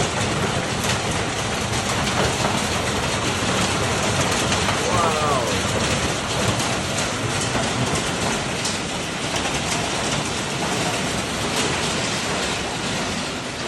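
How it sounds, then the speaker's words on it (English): Heavy rain and hail from a thunderstorm pound a surface in a dense, unbroken roar. A voice briefly exclaims partway through. "It just started to rain and then it started to hail, and this is what it sounds like."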